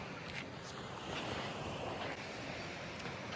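Sea waves wash onto the shore at Çıralı, Turkey, a continuous rushing roar of surf mixed with gusty wind buffeting the microphone, with no speech.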